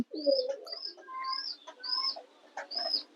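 Pigeons coo and chirp in short repeated phrases, close and fairly soft, with brief gaps between calls and no voices.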